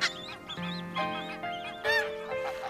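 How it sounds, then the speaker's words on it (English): Geese honk in a rapid series of loud, nasal calls, several overlapping near at hand, with no talking over them. "How do you know they're geese? You'll hear their honking song."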